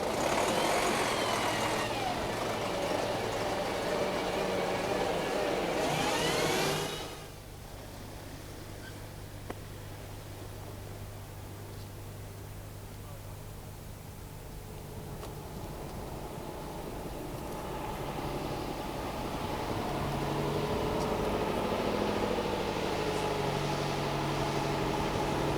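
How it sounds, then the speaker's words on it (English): A Bedford 466 diesel engine in a twin-steer Bedford Val coach hums in a low, steady idle, loud and close, with a louder rev at the start and another swell toward the end. "Just listen to that Bedford 466 engine"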